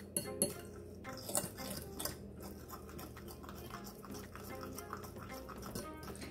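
Vegan onion ring batter is whisked in a bowl, producing a continuous, faint scraping and clinking of utensil against the bowl with small wet, sloshing sounds throughout.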